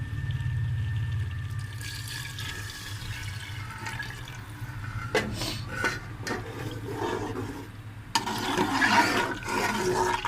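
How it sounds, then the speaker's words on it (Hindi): Water is poured into a pot of aloo chicken curry as a steady, gentle rush of liquid that swells into a stronger, splashier pour near the end, with no talking. "अब हम इसमें पानी डाल देंगे ताकि इसमें शोरबा हो सके।"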